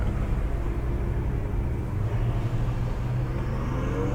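A Ferrari 488 GTB idles with a steady low rumble during a slow parking maneuver, the sound continuous and fairly close, with no talking.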